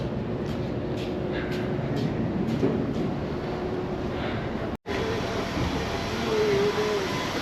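A train rumbles steadily along with a continuous low roar and rattle, briefly cutting out before the same running noise resumes.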